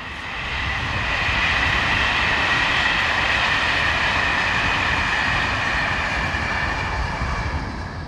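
Electric locomotive 22327 hauling the 628 Toulouse to Marseille service, heard as a loud, steady rumble with a sustained whine that swells in at the start and holds throughout, with no voices.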